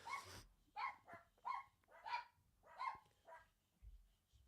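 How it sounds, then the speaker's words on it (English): Dogs bark indoors in a series of about six sharp, moderately loud barks spaced roughly half a second apart, with a low rumble between them. "I apologise for the dogs are going nuts."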